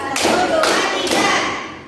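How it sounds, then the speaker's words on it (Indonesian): Children in a classroom clap together in sharp unison bursts, three distinct loud claps spaced about half a second apart, close and clear. "Tepuk 1 kali"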